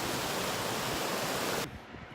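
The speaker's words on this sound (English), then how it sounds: "Pretty cool little waterfall." A small waterfall on the Ouachita Trail pours with a steady, loud broadband rush that drops abruptly to a quieter flowing wash near the end.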